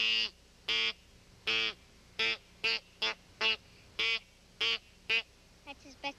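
A person imitates a duck call with about a dozen loud, nasal quacks, some single and some quick doubles, in an uneven rhythm close to the listener, with short softer calls at the end.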